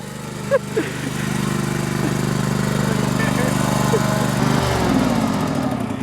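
Riding lawn mower engine in a test drag race against a mobility scooter: a loud, steady droning small-engine whine that holds close throughout, with a pitch shift near the end and people shouting over it.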